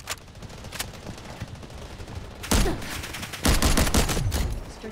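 Gunfire in the shooter game Delta Force: a continuous crackle of shots that swells into two heavier, louder bursts of rapid fire, with no talk over it.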